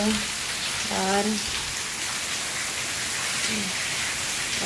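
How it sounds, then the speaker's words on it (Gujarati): Steady rain hisses down continuously, a dense even patter, while a voice speaks briefly near the start and once more later. "વરસાદ પડી રહ્યો છે સરસ મજાનો"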